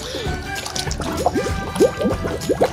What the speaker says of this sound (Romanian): Uite, uite cum fac balonașe.